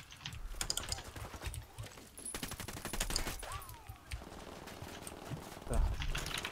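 Rapid bursts of gunfire crackle through a firefight in the video game Ghost Recon Wildlands, sharp repeated shots layered over game effects while a player talks throughout.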